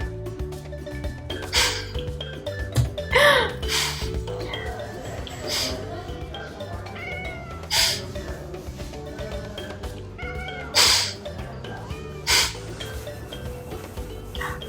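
A pet cat meows repeatedly in short, loud, close calls spaced a few seconds apart, with a person talking affectionately throughout.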